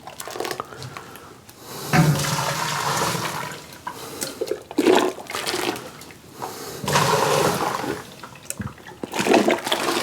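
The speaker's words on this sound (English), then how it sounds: "So what we want to do is put in some hot water." Boiling water poured into a bucket for a corn bourbon mash, coming in several splashing, gushing bursts with short pauses between them, loud and close.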